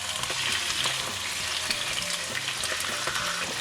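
A butterflied chicken breast fries in a pan with a steady, dense sizzle and faint crackle, close and loud throughout and with no voices.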